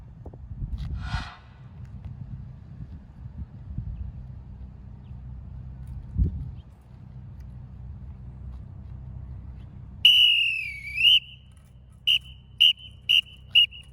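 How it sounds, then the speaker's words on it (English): After low rumbling background noise, a sharp parade whistle signaling a forward march sounds with a warbling call, followed by four short, evenly spaced blasts. "then you will hear a whistle"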